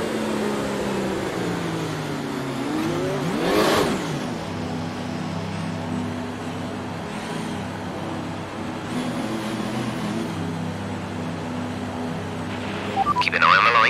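An F1 car's engine in the F1 2019 video game at the Azerbaijan Grand Prix idles with a droning tone before the race start and surges through a sharp rev sweep early on, then settles back to a steady hum.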